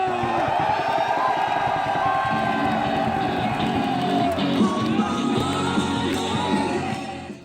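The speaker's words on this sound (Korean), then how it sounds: "이글스의 전력을 위한 함성" A large crowd roars and yells in a sustained, dense wall of cheering and whooping for the Eagles team, steady and loud throughout before fading at the very end.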